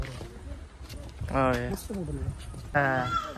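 Hooves clop on the ground as a bullock cart moves along, partly under people talking nearby.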